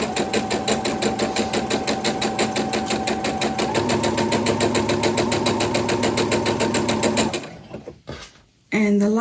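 A sewing machine runs steadily at speed, stitching an antique tile quilt block, loud and close with a rapid, even mechanical chatter for about seven seconds before stopping, followed by a few handling clicks.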